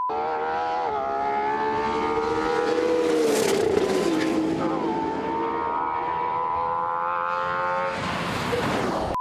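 A supercar engine revs hard and loud, its pitch climbing and falling in a sustained scream over several seconds, with a sharp burst near the end.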